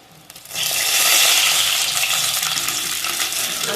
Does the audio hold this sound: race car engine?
no